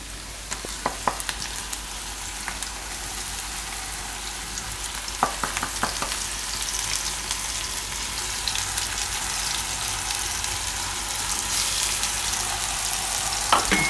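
Onions fry in a pan as ginger-chili-garlic paste goes in for matar paneer. A loud, continuous sizzle builds steadily, with spoon clicks and scrapes in short bursts.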